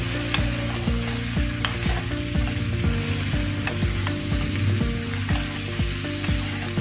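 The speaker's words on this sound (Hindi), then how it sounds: "मसाला को अच्छा से मिक्स करूंगी" Masala for a cauliflower and potato sabzi sizzles loudly in a pan while it is mixed, a dense continuous frying hiss with regular clicking stirring strokes, close up and without speech.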